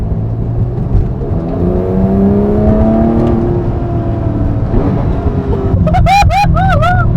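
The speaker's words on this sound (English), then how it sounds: "We really don't mind because we are sitting in a GT3 and it's a proper track car. We're driving it on the road." A Porsche GT3 track car's engine drones steadily from inside the cabin on a public road, then revs climb and fall in quick shifts near the end, loud and continuous throughout.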